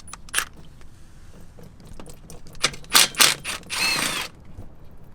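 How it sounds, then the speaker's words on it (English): Torx T40 bolts being worked loose from the transmission pan of a BMW with a ZF 6HP19/21 automatic, giving scattered metallic clicks and ratcheting bursts, with a longer whirring tool run near the end, close by with no talking. "we can go ahead and start removing the bolts all around the transmission"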